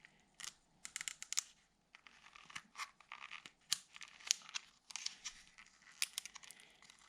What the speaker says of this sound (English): maybe I can get some help from a pair of scissors here